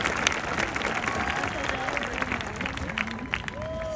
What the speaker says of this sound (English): please give these individuals a round of applause for their enthusiasm, leadership, and commitment to our students